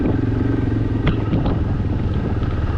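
A 4-wheel-drive ATV engine on an off-road ride in Krabi, Thailand, droning steadily and close with a low rumbling idle and a few brief rattles, no talk over it.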